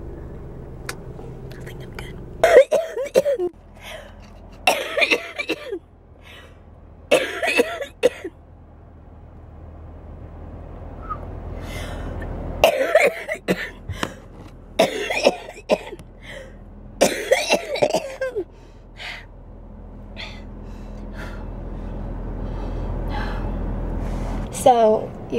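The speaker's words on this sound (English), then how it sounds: "So, you guys heard me just coughing." Several sharp coughs from a person with cystic fibrosis come in bursts with short breaths between, near and fairly loud, over a low rumbling background.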